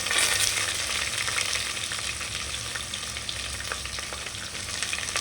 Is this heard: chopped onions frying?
yes